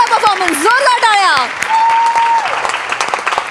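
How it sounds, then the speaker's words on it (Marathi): A studio audience breaks into dense, loud applause after a Marathi comedy sketch on the Hasya Jatra stage, sustained for a few seconds and slowly thinning, with voices and exclamations riding over the clapping. "जोरदार टाळ्या"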